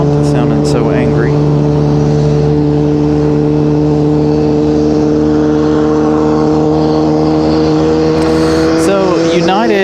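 Boeing 737 MAX jet engines at takeoff power at Raleigh-Durham airport give a loud, steady, droning roar with persistent tones, and a voice talks over it briefly at the start and near the end.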